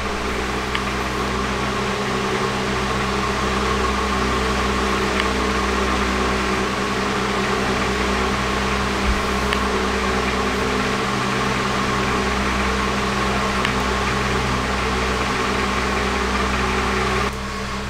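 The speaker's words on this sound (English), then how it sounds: "I seem to have all four cylinders running now." A Honda CB750 cafe racer's four-cylinder engine idles steadily after carburetor synchronization, a continuous even drone with a low rumble and mechanical hum held throughout.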